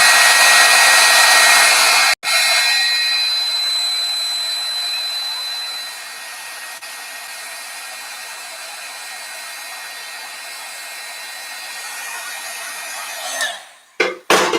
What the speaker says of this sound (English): I am going to heat set it though